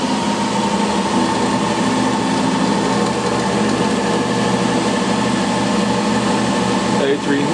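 A home-built permanent magnet alternator spinning at about 1800 RPM under a voltage test: a steady, close, droning whir with a high mechanical whine, continuous and even throughout.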